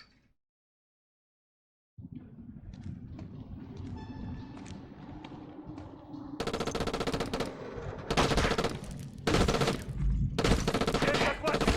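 Rapid automatic gunfire from a weapon in a shooting video game, with loud sustained bursts that grow denser and are broken by short pauses, over game sounds and some talk.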